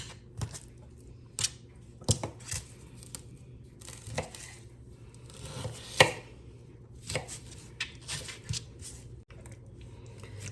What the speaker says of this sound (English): I'm gonna cut it in pieces like that.